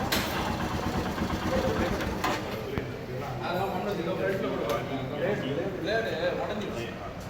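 A Royal Enfield Himalayan motorcycle engine idles steadily and continuously at close range, its low, even rumble holding for several seconds amid broadband background noise.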